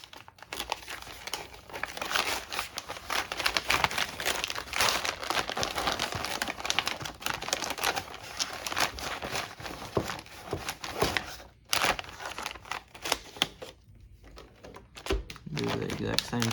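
Plastic vacuum sealer bag folded and handled while packing a firearm for long-term storage, giving steady close crinkling and rustling throughout with a short lull near the end, a voice talking over it.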